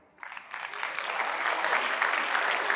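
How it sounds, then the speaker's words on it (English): Audience applause after a motivational talk, rising quickly to a dense, sustained clapping wash that holds steady and fairly loud through to the end. "Let's give a strong applause to yourself, because you are special."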